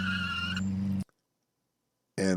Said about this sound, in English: He just skidded out, locked the brakes up before the finish line.